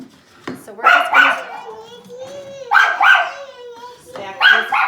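A dog barks indoors in a home kitchen, sharp bursts in clusters of two or three, close and loud, with whimpering between and a voice underneath.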